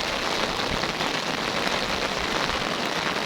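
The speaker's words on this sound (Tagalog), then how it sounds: "inabutan na tayo malakas na ulan" Heavy rain pours down steadily outdoors, a dense, loud and unbroken hiss of drops hitting surfaces with no voices over it.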